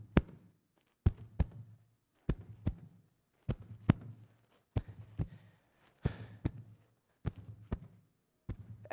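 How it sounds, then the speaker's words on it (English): A slow, steady heartbeat thumps alone in a close, quiet space, each lub-dub pair of low, muffled beats repeating about once every 1.2 seconds across the whole stretch. "My heartbeat."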